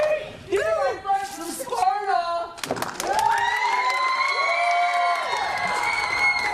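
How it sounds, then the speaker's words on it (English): Crowd cheering and shouting at a Kings Of Old School vs Butchie Davis and The Blue Jabroni wrestling event, a loud continuous roar with whoops and cries rising after a brief lull. "Butchie getting the crowd fired up."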